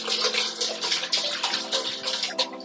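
Reverse-osmosis filtered water pours steadily into a 24-litre Brewmonk brewing pot, a continuous close splashing trickle with small surges and no talk.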